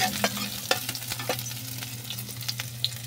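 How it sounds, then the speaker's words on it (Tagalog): Spices sautéing in a pan for a bitter gourd dish, a close bright sizzle with scattered scraping stirs and small crackles, no voices. "Igisa na to ang mga lamas."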